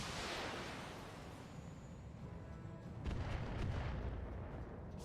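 Heavy weapons fire aimed at a Ballista mech in the Battletech game, a dense rumbling barrage of booms and blasts that swells louder over its second half, with no talk.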